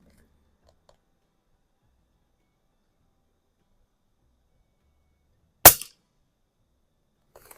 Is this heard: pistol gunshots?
yes